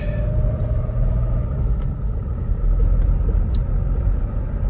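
A 1995 Toyota Hilux Surf engine idles steadily after a cold start, giving a continuous low rumble that holds even and close throughout with no throttle blips and no talking.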